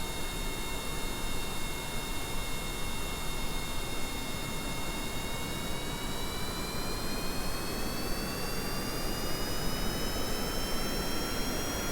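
In Kerbal Space Program, an aircraft's jet engine roars steadily through a short takeoff run, a dense continuous rush with whining tones that slowly climb in pitch.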